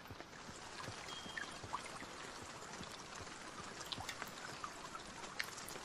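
Rain in the survival video game Zompiercer: a faint, steady hiss of rainfall with soft dripping and splashing, continuous and even throughout.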